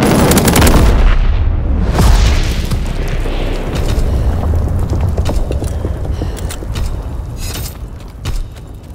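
A V2 rocket launches in Call of Duty WWII, a loud, continuous roaring rumble that lasts throughout, broken by sharp booms and gunfire-like cracks.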